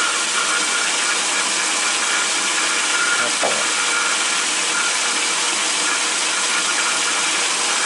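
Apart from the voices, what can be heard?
Atlas 10-inch metal lathe running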